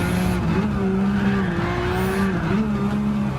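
Tires squeal steadily as a Nissan Skyline slides through a corner in Gran Turismo 7, a sustained, wavering screech over the loud engine drone of the racing game.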